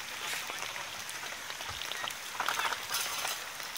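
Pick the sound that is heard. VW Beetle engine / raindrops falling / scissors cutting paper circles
raindrops falling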